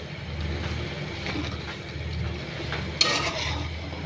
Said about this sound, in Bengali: শিমগুলো দিয়ে দেই এই যে